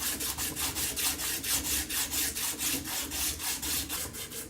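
Rhythmic back-and-forth sandpaper sanding of the metal of an antique hand brace, about three strokes a second, each a raspy scratch, close up and steady with no talking.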